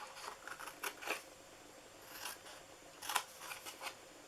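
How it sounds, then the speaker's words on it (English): Scissors snip along the edges of a paper box for an Easter bunny gift box, a few short crisp cuts in quick bursts with pauses between, close by and fairly quiet. "Then you're going to cut these little edges so that folds into the box better."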